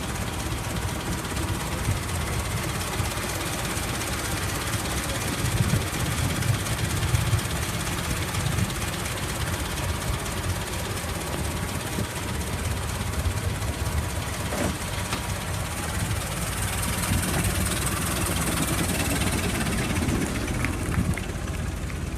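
A 1911 Reo car, built by Ransom Olds, idles at a steady low chug that runs unbroken and fairly loud, with ambient noise mixed in and no talking.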